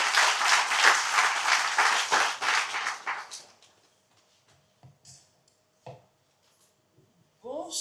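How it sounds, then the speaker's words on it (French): An audience applauds a municipal election candidate at a campaign event, with loud, dense clapping for about three seconds that quickly dies away into near silence, broken only by a few faint stray sounds. "Sous vos applaudissements"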